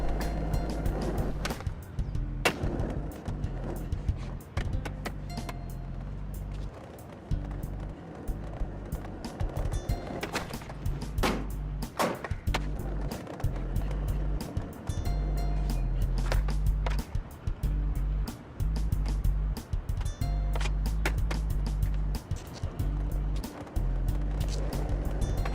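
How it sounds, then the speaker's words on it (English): Skateboard wheels rolling and clattering through tricks in the video game Skate 3, a steady close rumble with frequent sharp clacks and pops from landings throughout, over a low continuous backing. "One last skate for the road."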